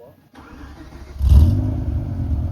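A warm BMW M5 E60 engine starts up, cranking into a loud catch and settling into a rumbling idle; people talk around it.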